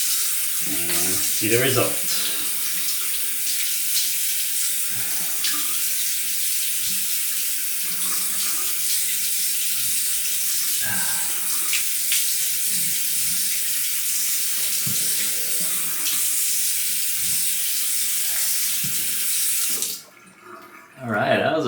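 Tap water runs steadily into a sink as a razor is rinsed after a shave, a continuous hiss with brief splashy interruptions, stopping just before the end while someone speaks briefly.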